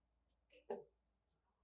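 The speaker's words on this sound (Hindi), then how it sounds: "यहाँ एक बार लिख देते हैं बेस।" A single quick stroke of writing on a board, a short scratchy mark in an otherwise quiet classroom setting, with faint speech nearby.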